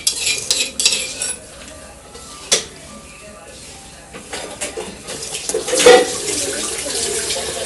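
Beef is worked together with masala by hand in a bowl for a Kerala-style beef curry, giving soft, irregular squishing and light clinks at close range, with a few sharper knocks.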